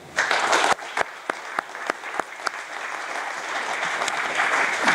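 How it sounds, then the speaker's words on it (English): An audience at a lifelong-learning preview event applauds its volunteers, with a burst of loud clapping at the start that settles into steady, sustained applause from a sizeable crowd. "how about giving them a hand?"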